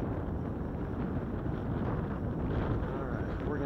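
Steady broadband wind buffeting the microphone outdoors while a drone is flown in gusty conditions over Waco, a continuous low rumble with no clear pauses.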